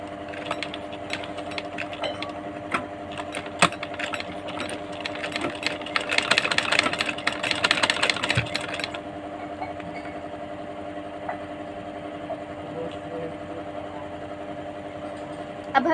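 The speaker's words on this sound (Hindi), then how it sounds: "यहाँ पे हमने मशीन में ये लगा लिया है और अब हम इसे चलाना शुरू करते हैं।" A sewing machine stitching a baby boy's front-open jacket, running in a steady mechanical whir with a repeating motor hum, busiest and loudest in the middle stretch before easing to a quieter idle, close up with no talk.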